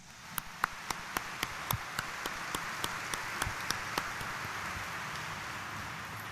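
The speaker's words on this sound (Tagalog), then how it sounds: "Ang tunay na deboto, pumalakpak ng malakas." A congregation at Sunday Mass in Quiapo Church claps, coming through as about fifteen distinct, sharp claps spaced roughly evenly at first, then thinning out and stopping over a soft, hissy room background.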